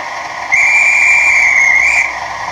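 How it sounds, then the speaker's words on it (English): A toy train's guard's whistle sound effect, a steady, shrill electronic tone, holds for about a second and a half, clear and close, then cuts off abruptly. "It does have other functions like guard's whistle."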